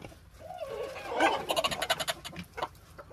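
Chickens from a Catawba rooster and Denizli Sanjak cross hen pairing cluck nearby in a quick series of soft, uneven calls rising to a busier burst.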